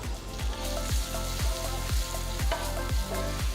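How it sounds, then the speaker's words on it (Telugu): Chopped small sambar onions frying in a pan: a steady sizzle runs throughout, punctuated by regular low thumps about every half second. "సో ఈ తరిగిన చిన్న ఉల్లిపాయలని నెక్స్ట్ వేసుకుందాం"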